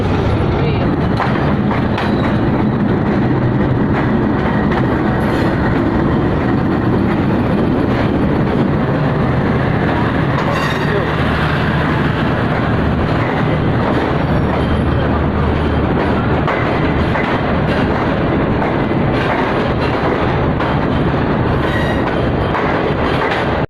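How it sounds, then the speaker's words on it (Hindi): A Green Line train arrives at a station with a loud, continuous rumble of rail cars and wheels, and faint clatter and squeal as it comes to a stop. "इनकी ट्रेन आ चुकी है। ये फाइनली पहुंच चुके हैं हमारे पास। ओके जी, ट्रेन रुक गई है।"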